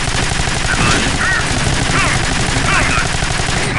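Rapid automatic gunfire from a sentry gun in the sci-fi shooter Alien Swarm, a steady, dense rattle that runs loud and continuous through the whole stretch with faint chirping effects over it.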